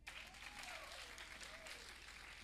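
An audience at a women's church conference applauds a testimony, a soft, distant, continuous patter of clapping with a voice rising faintly over it.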